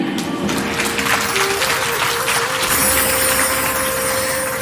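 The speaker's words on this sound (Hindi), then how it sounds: "आपकी ताली अटी से कम क्यों बाज रही है?" An audience at a Hindi devotional satsang claps together in a dense, steady burst of applause that fills the hall and holds loud and close for several seconds.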